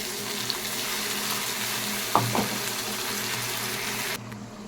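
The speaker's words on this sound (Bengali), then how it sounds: "ছোটো বড়ো দুটো পেঁয়াজ কুচি দিয়ে দেবো। আলুটা তার সঙ্গেই ভাজা হয়ে যাবে।" Chopped onions and potatoes fry in a pan with a steady, even sizzle, broken midway by a brief clatter of stirring, before the sound cuts back near the end.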